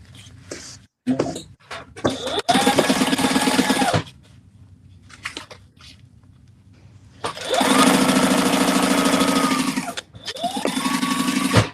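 A sewing machine runs in several bursts while fabric is stitched right sides up, each run a steady, loud mechanical whirr. Quiet handling sounds fill the pauses between runs.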